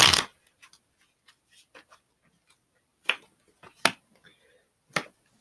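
Tarot cards being shuffled by hand during a reading: a loud riffle at the start, then scattered soft card taps and a few sharp snapping flicks, close and dry with no talking.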